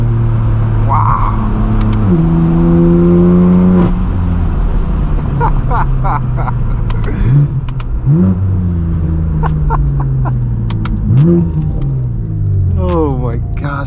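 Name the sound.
BMW M4 engine revving while accelerating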